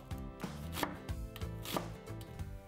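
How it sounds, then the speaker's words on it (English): A knife slices onions into half moons, giving a quick, regular series of crisp cuts with knocks on the board, about six strokes, close and alone. "Then take 3 onions and for each, slice the end off, slice in half and peel, then slice into half moons."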